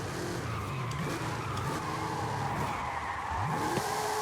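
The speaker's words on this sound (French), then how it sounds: "on fait burn les 4 roues en même temps" A Mercedes G-Class with 874 horsepower does a four-wheel burnout, tires squealing loudly and continuously over a roaring engine, with rising and falling pitch sweeps.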